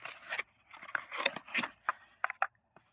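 Cardboard and plastic packaging of a Fujifilm Instax Mini 41 instant camera being opened, with a string of close, short scraping and rustling bursts and brief pauses, no talking.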